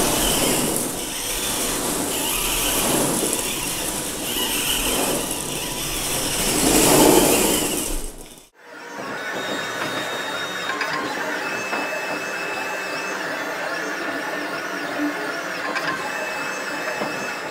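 A radio-controlled BB-8 droid robot rolls on a smooth floor, giving a whirring motor hum with rising and falling rumbles that cuts out abruptly midway and gives way to a quieter steady mechanical drone.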